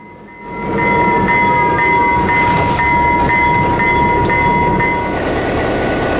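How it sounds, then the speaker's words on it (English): Loud, constant roar and rumble inside the cab of a classic FP9 diesel locomotive on the Texas State Railroad, with a steady whining tone and faint rhythmic clicks as the engine builds up and holds. "it's a train, so it's gonna be nice and loud in there"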